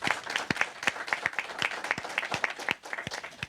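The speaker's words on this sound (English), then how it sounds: "together we give a great round of applause to this great panel" An audience at a closing session of a discussion on electricity access in sub-Saharan Africa claps for the panel, a close, crisp patter of individual hands that is steady and continuous from start to finish.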